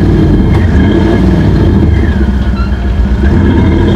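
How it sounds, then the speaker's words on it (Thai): A Volkswagen Amarok diesel pickup with an Active Sound exhaust system runs close by. The engine is loud, with a deep, rumbling drone that holds steady and swells slightly. "สตาร์ทเนี่ยครับเสียงเครื่องก็ดังขึ้นก็คือตามรอบเครื่องทั้งหมดเลย"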